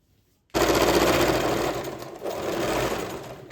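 An electric sewing machine stitching a cross piece on a child's nightie kicks in after a brief silence and runs fast and steady, loud and close, with a slight dip in speed midway.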